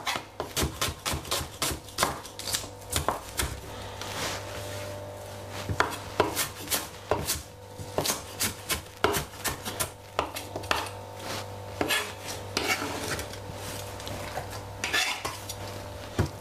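A knife chops white onion on a cutting board in a rapid, uneven series of crisp, close taps, with a low steady hum beneath.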